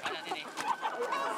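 A hen clucking in a flock, a series of quick nasal clucks and squawks close by with no talk.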